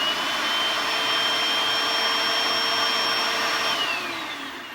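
A Bissell SpotClean carpet cleaner runs in a loud, steady, close whine with a constant high-pitched motor tone, holding evenly before winding down at the end.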